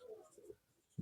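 A pen scratches faintly across paper while a geometry proof is written out, soft irregular strokes for about half a second, then a brief pause and a sudden low thump at the end.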